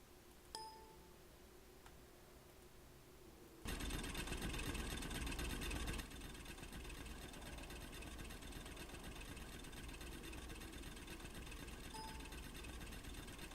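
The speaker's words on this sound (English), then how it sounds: "So about 1 piece of coal, you get about 7 out of the mining drill." A mining drill chews through coal in the video game Factorio, a steady mechanical grinding hum with dense rhythmic rattling that jumps louder for a couple of seconds, then settles into a continuous churn.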